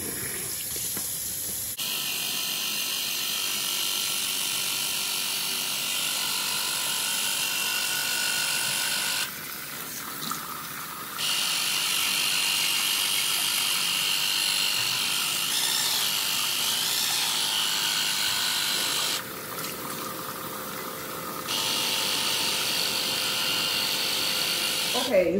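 A water flosser runs with a steady, close mechanical buzzing and hiss of spraying water, pausing briefly twice before starting up again, with a person talking over it.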